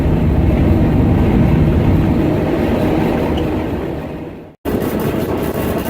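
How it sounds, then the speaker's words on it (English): A train rolls along a desert railway line on the route toward Barstow, a loud continuous rumble and rattle heard up close. It cuts out abruptly for an instant near the end, then resumes. "that other train in the distance is on the other track going back towards Barstow"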